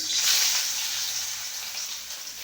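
An ingredient hits a hot pan for pork kinamatisan, setting off a loud, bright hiss of frying that swells at once and then settles into a steady sizzle, heard alone.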